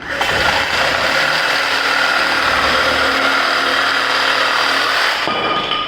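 A reciprocating saw cuts straight through wood at full speed, a loud continuous buzzing rasp close by that holds steady for several seconds and then cuts off abruptly near the end.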